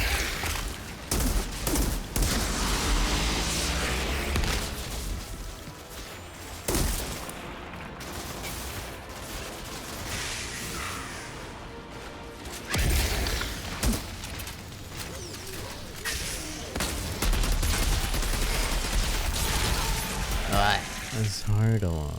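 Sniper and other gunfire in the sci-fi shooter video game Outriders, a dense barrage of repeated loud shots and bursts mixed with game effects and occasional voices throughout.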